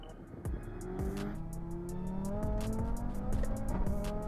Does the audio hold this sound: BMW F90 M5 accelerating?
yes